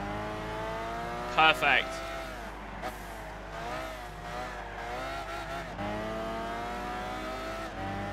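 Race cars in Gran Turismo 6 roar steadily through an overtake, a continuous engine drone with shifting pitch, while a commentator talks over it and a short sharp tone interrupts briefly.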